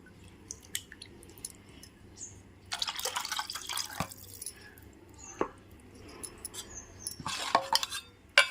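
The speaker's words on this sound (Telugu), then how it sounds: "ఇప్పుడు చింతపండు రసం పోస్తున్నాను" Tamarind juice is poured into a pot for a brinjal dish, heard as faint, close splashing and dripping liquid in a couple of short bursts amid quiet clicks and squishy handling sounds.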